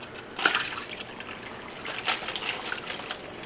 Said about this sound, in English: We're just going to pour everything in.